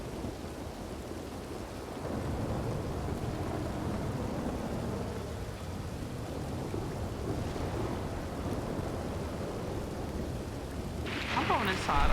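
Rain pouring steadily outdoors with low rolling thunder rumbling underneath, a heavy continuous wash that swells toward the end, a voice briefly audible over it.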